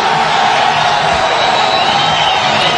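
A steady, loud roar of an arena crowd cheering and clapping after the judges' decision in the Forrest Griffin vs. Jeff Monson MMA fight. The sound is a dense, unbroken wash of noise that stays close and constant.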